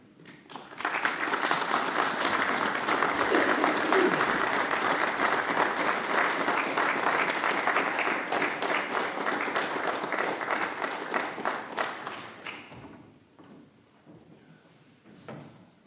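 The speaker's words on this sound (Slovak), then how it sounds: "takto aj osobne i potleskom sa mu môžeme poďakovať" An audience applauds inside a church at a 50th-anniversary celebration of the organ's consecration in Zlaté, a dense sustained wash of clapping lasting about twelve seconds before thinning out to a few scattered claps.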